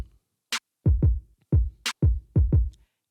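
Unprocessed drum beat programmed in Ableton Live, dry kicks and snares with a couple of bright hi-hat or clap hits, sparse and close, repeating in a simple pattern with short gaps.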